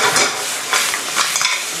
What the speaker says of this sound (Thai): เอาหอยแมงภู่นิวซีแลนด์ใส่ลงไป